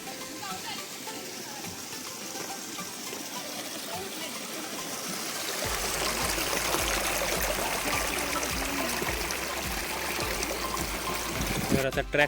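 Steady stream water rushes nearby at Valtai Pathar, Gaganbawada, growing louder partway through, a continuous babbling flow with faint voices underneath.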